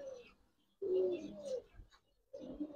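A Giribaz pigeon coos softly and close by in two short bursts separated by a quiet gap.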